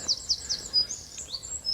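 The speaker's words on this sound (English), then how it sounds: "And the birds are singing," Birds sing in an English oak woodland in spring, with short high chirps repeating through the moment, moderately close and fairly faint over a quiet background.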